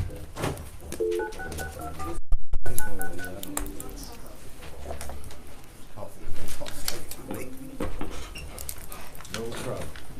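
Touch-tone keypad beeps sound in a quick burst as a call is placed during a county board of supervisors meeting, close and clear, with people talking in the room before and after the dialing.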